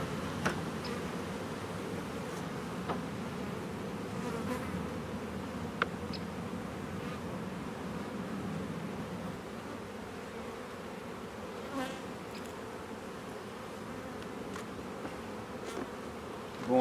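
Honeybees in an open hive during an autumn inspection, a dense continuous buzzing hum from many bees close by, steady throughout with occasional faint clicks and rustles.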